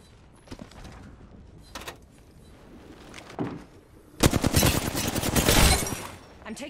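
Gunfire in the Apex Legends video game: a few sharp isolated shots early on, then a loud sustained burst of rapid automatic fire near the end.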